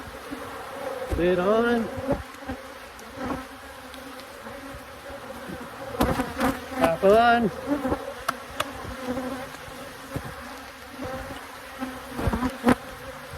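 Honeybees buzz in a constant close drone around an opened hive during an inspection, while someone speaks a few short phrases over the steady hum.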